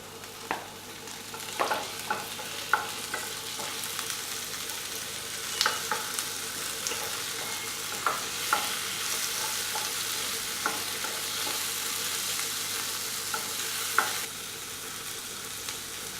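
Tomatoes sauté in a pan for chapati noodles, giving a steady close sizzle that runs throughout with occasional soft clicks of a spatula stirring, no voices.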